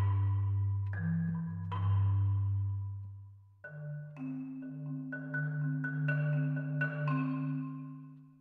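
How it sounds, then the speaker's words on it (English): Marimba preset on the Arturia Pigments software synth, mellow struck mallet tones over a deep sustained bass note, a short phrase of bright repeated notes, close and clean. "I've got a marimba loaded up"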